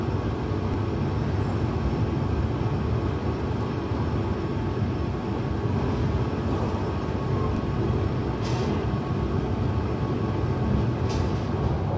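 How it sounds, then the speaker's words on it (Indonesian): Argo Cheribon executive train leaving Jatibarang station, a continuous loud rumble of rolling wheels and carriage noise heard up close, steady throughout with no talking. "kereta api Argo Cirebon sudah meninggalkan stasiun Jatibarang"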